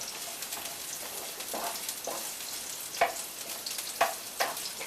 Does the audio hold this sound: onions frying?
yes